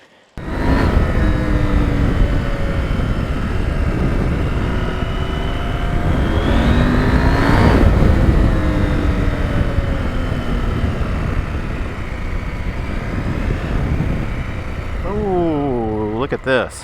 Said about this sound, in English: What an awesome motorcycle though.